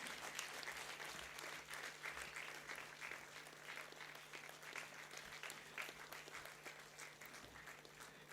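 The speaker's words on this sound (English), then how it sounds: "Keep your applause loud as possible." A large convocation crowd keeps up continuous applause for a graduate on stage, the dense clapping holding steady and fairly even for several seconds with no break.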